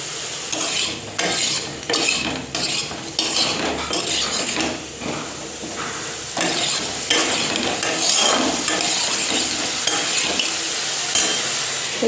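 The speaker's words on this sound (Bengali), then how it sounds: "ভাজা হচ্ছে।" Cauliflower sizzles steadily as it fries in a pan, with a metal spoon repeatedly scraping and clinking against the pan as it is stirred, close and continuous with no talking.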